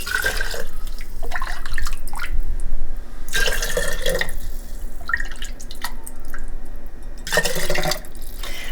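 Homemade turkey bone broth is poured into jars in several bursts of splashing liquid, close and clear, separated by quieter gaps with small drips and clinks.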